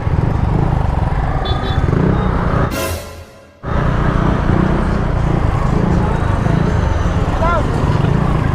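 A motor scooter is ridden along a road, giving a loud, steady rumble of engine and wind that drops out briefly partway through, then resumes.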